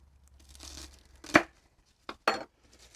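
Knife cutting through a garlic bulb, heard as a soft scrape followed by one sharp crunching chop and two more quick cuts, close and quiet.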